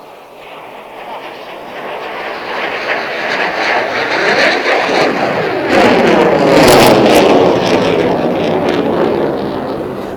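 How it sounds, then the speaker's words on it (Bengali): A MiG-29 jet flying a slow-speed handling manoeuvre over an Independence Day parade ground, its engine roar swelling steadily and loud overhead before easing slightly, with no voices. "দক্ষিণ আকাশে মিগ-29টি প্রদর্শন করবে স্লো স্পিড হ্যান্ডলিং ম্যানুভার"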